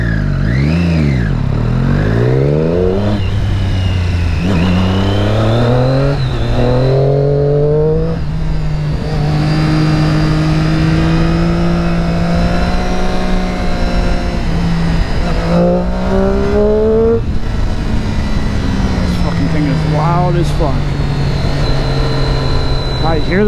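A car engine running through its stock exhaust revs loudly up and down in long sweeping pulls, staying close and dominant throughout, with a voice speaking at times underneath.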